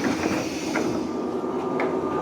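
A JR West local train pulls into Shimonoseki Station in Japan, heard from inside the car as a steady rumbling hum with a faint electrical whine and a few soft clunks and squeaks from the carriage.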